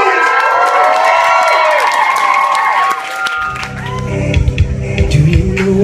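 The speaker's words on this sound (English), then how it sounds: "Applause for Mateus, the best name in the world" A party crowd cheers, claps and shouts for Mateus at a live Christmas party, with a dense wall of voices and scattered claps throughout, then louder low-pitched shouting and chatter after a brief dip partway through.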